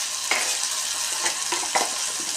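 Ginger and garlic sautéing in a pan with steady sizzling, stirred in a few short scraping strokes by a spatula; close and moderately loud, with no voices.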